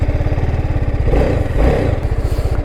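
TVS Apache RR 310 BTO motorcycle engine on a track: steady pulsing single-cylinder thrum, close and loud, swelling briefly as the throttle opens before settling back to an even beat.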